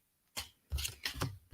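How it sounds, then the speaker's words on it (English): Lenormand cards pulled one at a time from a deck, giving a few quiet, brief papery slides and snaps spaced irregularly across a short, close and otherwise silent moment. "I just pull them quietly. Okay, so I'm pulling some cards here."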